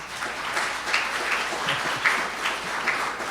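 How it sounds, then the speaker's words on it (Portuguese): A church congregation applauds together, with a dense, even wash of clapping from many hands that holds steady and fairly loud throughout. "Aplauda ao Senhor,"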